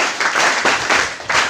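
A room of school students applauds in loud, surging waves of clapping, close and continuous with rhythmic swells.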